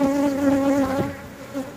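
Honey bees from a backyard hive drone close to the mic in a steady, dense buzz with a strong tonal hum that wavers slightly, holding continuously throughout with no talking.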